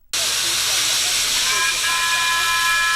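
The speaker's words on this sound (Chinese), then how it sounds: "火车鸣笛，神气的冒气喷烟，" A replica of the 1887 Tengyun steam locomotive at a Hakka heritage park in Dongshi, Taichung, releasing a loud, continuous roaring hiss of steam with a steady whistle tone joining midway.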